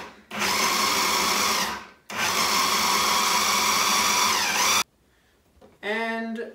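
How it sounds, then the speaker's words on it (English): A food processor pulses garlic scape pesto in two long loud whirring bursts separated by a short pause, followed by a brief quieter spin at the end. "Pulse this for about 3 minutes until it comes together."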